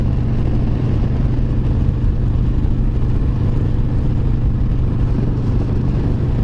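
Steady engine rumble and wind roar from a motorcycle cruising at about 55 on a warm, dry day, a constant low drone with no clear changes throughout.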